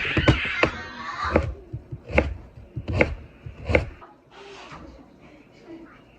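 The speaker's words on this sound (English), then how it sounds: "sliced up some bacon into like thicker chunks" Knife chopping bacon into thick chunks on a board: several firm, evenly spaced thuds under nearby kitchen chatter and a sizzle-like hiss, fading to softer background noise after the cuts stop.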